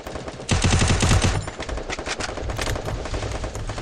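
Rapid automatic gunfire rattles in a competitive esports shooter match: a loud dense burst followed by lighter, scattered shots, with no voices over it.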